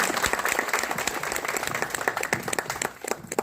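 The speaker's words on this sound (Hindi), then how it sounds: "तो सबसे पहले इनको तालियों से हम लोग स्वागत करते हैं." Applause from the audience at a bank branch's 72nd Republic Day celebration, a dense spread of clapping hands that carries on steadily through the whole stretch, fairly close and with no voices.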